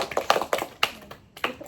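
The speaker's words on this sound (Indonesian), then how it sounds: "tepuk tangan dulu untuk kita semua" A few hands clap in a small group during a group therapy activity session with women, scattered and uneven claps close by that fade after a short burst, with nobody talking.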